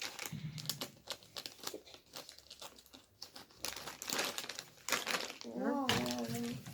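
Candy package being opened, a plastic wrapper crinkling and tearing near the mic in bursts under excited children's talk, with a child's exclamation near the end.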